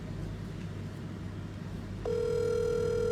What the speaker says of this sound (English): This guy just doesn't want to pick up the phone.